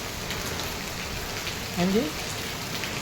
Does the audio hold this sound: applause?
no